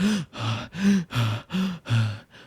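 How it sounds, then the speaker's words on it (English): A person gasping for cool air after eating something fiery hot, heard as six rhythmic, loud, close breaths, each a ragged voiced inhale or exhale, with no speech. "I'm gasping for cool air."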